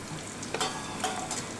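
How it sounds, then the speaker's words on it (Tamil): Oil heating in a pan for botti kurma gives a soft, steady low sizzle, with a few brief brighter crackles and bubbles rising over it. "இது நல்லா எண்ணெய் காயட்டும்"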